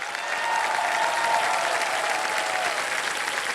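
Studio audience applauding during a New Year episode of the quiz show Kaun Banega Crorepati, steady dense clapping that swells in and holds loudly throughout with no talk over it.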